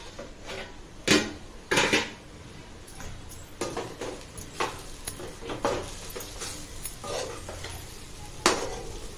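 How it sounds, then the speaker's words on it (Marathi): Lid lifted off a pan of chapati chivda, leftover chapati pieces cooked into a snack, with a sharp metallic clank, then several lighter clinks and scrapes of utensils against the pan, close and without talk. "आपण झाकण काढून बघूया।"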